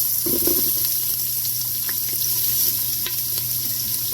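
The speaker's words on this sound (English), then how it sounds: "We want to add in our andouille sausage." Andouille sausage frying in a pan over medium heat, a continuous loud sizzle with occasional crackles and stirring clatter, close up and without talk.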